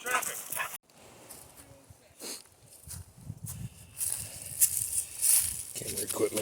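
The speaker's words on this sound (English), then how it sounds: "Oh, they brought the dog." A dog at a camp in the woods gives a few short barks and yips among rustling movement and nearby voices, loud and close at times.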